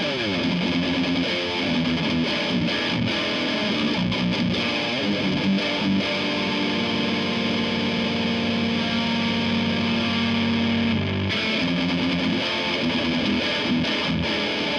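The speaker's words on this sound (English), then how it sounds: "there's this weird high-end hiss coming out" Electric guitar playing loud, steady riffs and sustained chords through a Friedman BE-OD overdrive pedal, with a bright high-end hiss running beneath the gritty tone.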